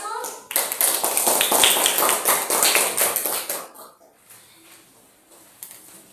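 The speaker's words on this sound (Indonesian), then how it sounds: "tepuk tangan untuk kelompok 1" A classroom group of students claps for group 1, brisk close applause for about four seconds that fades into quiet room noise with faint voices.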